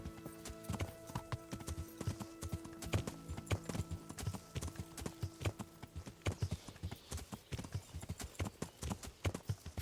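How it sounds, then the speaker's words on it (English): Rhythmic clip-clop of horse hooves at a steady gallop in the video game Kingdom Come: Deliverance, with occasional whinnies and faint game-like background tones. "You're riding your fucking horse again."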